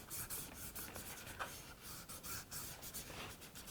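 Fingers rub and scrape paint across a toothy, textured gesso panel, making a faint, close, continuous dry rasping with small rhythmic strokes.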